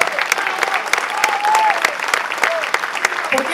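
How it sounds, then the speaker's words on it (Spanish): A crowd at a La Plata education event gives sustained applause, dense continuous clapping with a few voices calling out over it. "Fuerte el aplauso."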